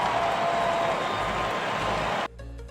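A baseball crowd in the video game OOTP 21 roars as a dense, steady wash of cheering and noise, loud and continuous, then drops suddenly to a quieter background near the end.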